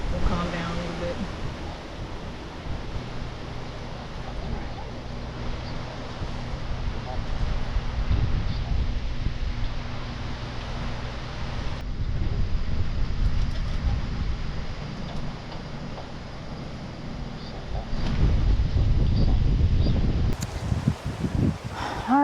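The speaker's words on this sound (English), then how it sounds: "Hopefully this wind will calm down a little bit." Wind gusts at a riverside campsite on the Estero River in Florida, with broadband rustling and buffeting that swells and eases, loudest near the end, and some faint voice.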